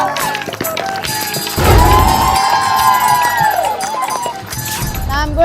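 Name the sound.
audience clapping and cheering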